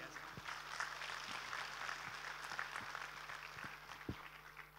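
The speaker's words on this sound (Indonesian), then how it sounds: "Sekali lagi aplaus yang luar biasa." An audience claps at a charity event: a dense, steady wash of applause fills the whole stretch with a few louder claps poking through, and a voice is faintly audible underneath.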